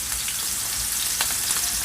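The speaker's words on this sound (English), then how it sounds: "you really just want to sear them on both sides" Scallops searing in a hot frying pan give a steady, close, loud sizzle with small crackling pops throughout.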